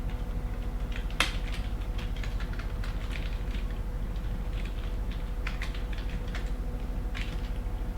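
Typing on a computer keyboard during a programming lecture, with scattered clicky keystrokes in irregular bursts over a steady low hum, fairly quiet and close, with no talking.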